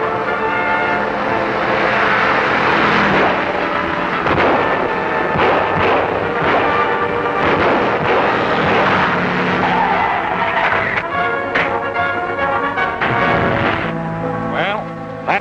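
A car engine races flat out during a 1942 serial chase, a loud, steady roar that runs continuously under a dense wash of other sound, with skidding hints.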